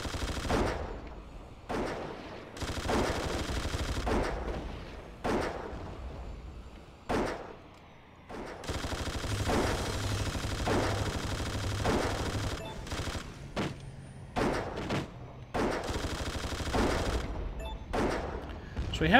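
Aircraft machine guns rattle in repeated bursts in the Airfix Dogfighter video game, loud, sharp volleys separated by short gaps, with a steady engine drone underneath and a few single shots between the strings of fire.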